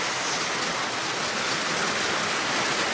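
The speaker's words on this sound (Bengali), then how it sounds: "এই যে বৃষ্টি পড়তেছে" Rain falls steadily outside, a dense, even hiss with no breaks or distinct drops standing out, and no one speaking.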